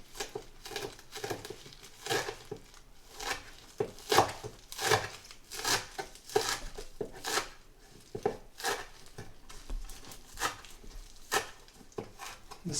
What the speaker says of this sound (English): It has to be very finely chopped